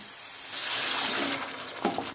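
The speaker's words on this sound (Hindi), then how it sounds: "अब पानी मिलाऊंगी।" Water poured into a pan of fried paneer gravy, a short close splashing and trickling pour lasting a couple of seconds with no speech.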